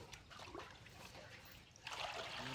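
About two litres of water poured for a bijamrut farm mixture of cow dung, soil, lime and cow urine, a faint trickling splash that grows fuller near the end, quiet and close.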